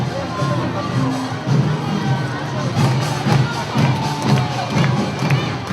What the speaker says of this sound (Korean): 깜찍한 어린이들의 등장에 박수와 환호 소리가 더 커졌습니다.